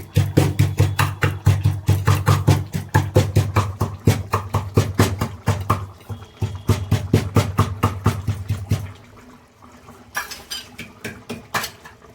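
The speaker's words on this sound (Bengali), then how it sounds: "এটাকে এখন এরকম করে গুঁড়ো করে দেবো। আওয়াজ হচ্ছে" Roasted cumin being ground into powder in an electric grinder, a loud rattling, rapid clatter with a droning motor for about nine seconds, then stopping to a quieter scraping and knocking.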